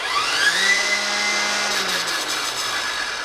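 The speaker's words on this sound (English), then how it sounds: "And that blade is moving on high and should do quite a good job." Toro 60V cordless stick edger running on its high setting, a steady whirring motor drone with a faint rising whine at the start, close and fairly loud without a break.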